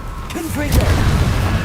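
A Confringo blasting spell explodes in Hogwarts Legacy, a loud booming burst after a short magical whoosh, with a voice calling out over it.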